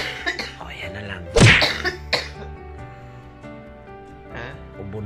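One loud, abrupt cough bursts out from a person recovering from COVID, followed by a smaller throat sound, with speech around it at close range.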